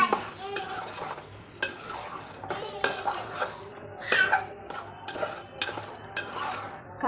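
Chicken curry with two spoons of chili powder being stirred in a pot, with a spoon clinking and scraping against the metal in irregular bursts, close up, over a low steady background hum.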